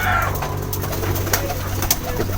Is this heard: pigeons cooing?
yes